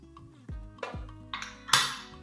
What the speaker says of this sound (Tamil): இப்போ குக்கர் மூடியை மூடிடலாம்